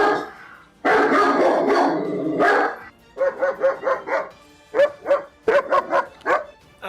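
Police dogs bark loudly and close by in quick bursts: a long run of overlapping barks first, then several rapid, sharp yaps in clusters.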